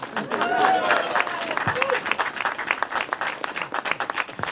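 An audience claps for city staff at a public event in a historic building, brief scattered clapping that sharpens into distinct claps while a voice speaks over it at first.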